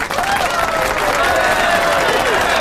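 Steady dense applause and crowd noise, loud and continuous for a few seconds with voices mixed in.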